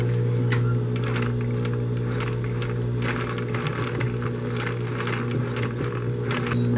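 A sewing machine runs steadily as it stitches a doubled leather strap for a men's shoulder bag. The motor hums continuously and close up, with rapid needle ticks throughout and no talk.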